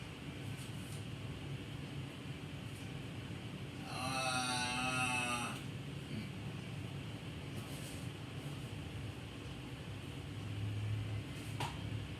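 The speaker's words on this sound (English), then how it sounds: "Cow." A single cow gives a long, low moo of about a second and a half against a quiet background hum, the call clear and fairly near with nothing else sounding around it.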